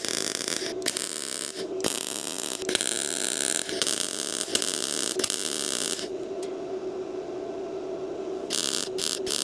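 A Bestarc welder laying beads on a small steel project, producing loud crackling, buzzing arcs in repeated bursts of a second or two separated by short pauses, with a low electrical hum underneath and no talk.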